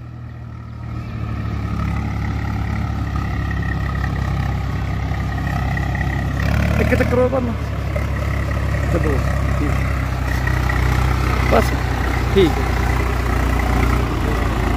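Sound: Swaraj 744 tractor engine pulling trolley uphill

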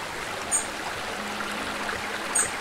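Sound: river stream flowing in Eastshade video game

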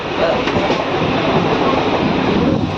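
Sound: train running on rails

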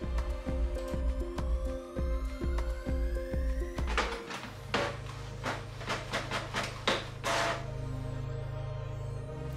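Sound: Canon MAXIFY inkjet printer printing a test page

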